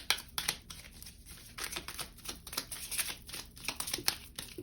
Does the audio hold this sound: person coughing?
no